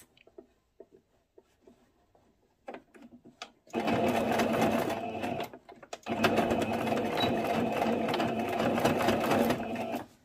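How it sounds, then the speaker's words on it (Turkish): A sewing machine stitches a tablecloth up close, starting with scattered handling clicks and then running in two loud, steady whirring bursts with a short pause between. "Aynı şekilde üzerine yerleştirip dikiyorum."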